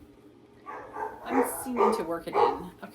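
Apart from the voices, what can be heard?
dogs barking in the background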